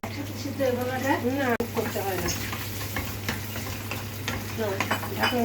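Malabar spinach stalks cook in a pan for a shrimp curry, with a close bubbling sizzle and stirring scrapes under a voice speaking over them.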